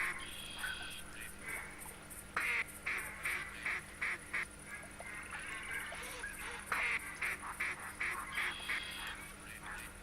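Ducks, including gadwall, American black duck and mallard, quack in the hunting game The Hunter, repeated bursts of honking calls at a moderate distance over a low hum and faint background sounds.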